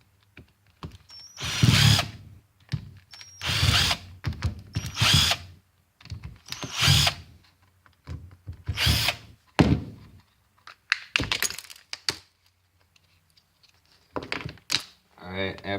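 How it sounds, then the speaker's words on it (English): A power drill whirs in repeated short bursts as it backs Phillips screws out of a hot glue gun's plastic housing, each run separated by pauses and small clicks and clatter of parts being handled. "First I'll be taking out all these Phillips screws."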